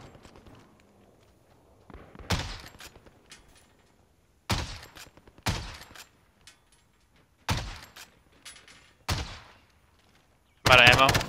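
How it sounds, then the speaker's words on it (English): Call of Duty Warzone gunfire: several sharp, separate bursts of shots spaced a second or two apart, with a player talking between them and a louder final burst. "I'm shooting at him like I know where he's at"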